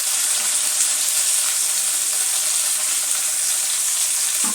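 Tomatoes and curry leaves for chutney frying in a pan, a constant loud hissing sizzle that stays even throughout with no voices.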